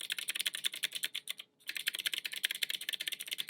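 Rapid clicky keystrokes on a Kwumsy K2 mechanical keyboard, a dense stream of crisp clacks close to the mic with one brief pause midway, then the fast typing resumes.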